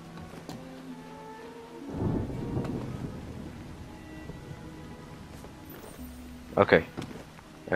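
Rain and thunder in the video game Assassin's Creed Syndicate, a low rumbling roll of thunder over steady rain, with a sharper crack near the end, a voice talking intermittently over it.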